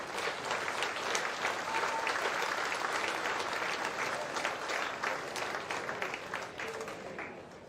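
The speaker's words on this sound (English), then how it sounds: "Give a round of applause, ladies and gentlemen" Audience clapping steadily at an agricultural show, a sustained round of applause from a crowd, fairly loud and even throughout, with no voices over it.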